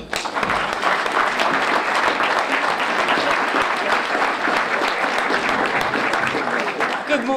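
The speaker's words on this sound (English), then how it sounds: "And let's give this delegation as president a hand clap." A large room full of people claps steadily for a state delegation, a dense, even wash of applause that holds at the same level for several seconds without a pause.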